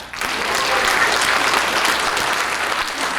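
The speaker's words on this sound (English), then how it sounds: "you guys can clap" An audience claps steadily after a talk about multiple sclerosis, a dense, even burst of applause that swells and holds for a few seconds.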